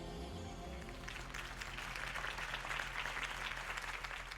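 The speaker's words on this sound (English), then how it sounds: "If only Mr. Wayne, my campaign's largest backer, could have heard that applause" Crowd applause in Batman: The Telltale Series video game, a steady wash of clapping that swells over a few seconds after a low musical tone fades.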